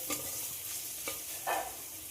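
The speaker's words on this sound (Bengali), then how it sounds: "এবার আদা রসুন যতক্ষণ না কাঁচা গন্ধ চলে যায় ততক্ষণ কষিয়ে নেব।" Grated ginger and garlic frying in a pan make a soft, continuous sizzle, with a few brief scrapes of a spatula stirring them at close range and no talking.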